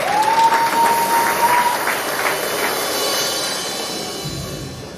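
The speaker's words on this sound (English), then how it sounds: "So please, give a round of applause for Ona one more time." Sustained audience applause fills a hall at an awards ceremony, a dense steady clatter of many hands that holds loud before slowly tapering, with a brief sustained tone sounding early on.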